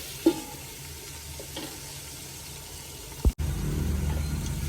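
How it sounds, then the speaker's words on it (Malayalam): Tomato fry being stirred in a pan: soft, low scraping and sizzle at first, then a single clunk of the utensil followed by a louder, steadier frying hiss close by. "ഇടയ്ക്കിടയ്ക്ക് ഒന്ന് ഇളക്കി കൊടുക്കാം."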